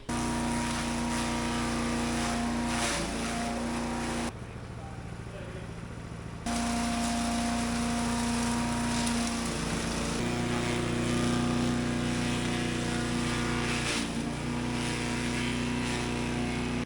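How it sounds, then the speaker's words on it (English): A wood chipper shreds crop samples with a loud, steady engine drone that shifts in pitch as material feeds through. It dips briefly quieter partway, then resumes at full strength. "I got to run it through the chipper twice to get it shredded good"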